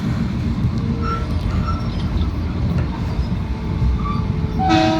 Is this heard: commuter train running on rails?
yes